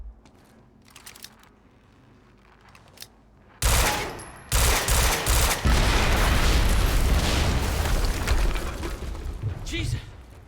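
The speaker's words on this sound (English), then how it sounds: "HQ, we just heard an explosion near the harvesting perimeter." A sudden, heavy explosion in the video game Quantum Break breaks a quiet scene, followed by a loud, sustained roar with crackling, gunfire-like bursts that slowly fades.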